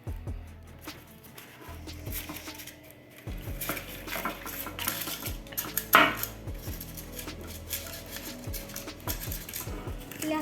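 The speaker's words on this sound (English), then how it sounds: "The first thing to do is put your cupcake casings, your cupcake casings" Paper cupcake liners are dropped one by one into a metal cupcake pan by kids baking vanilla cupcakes, giving light clattering taps and metallic knocks with brief handling noise between them.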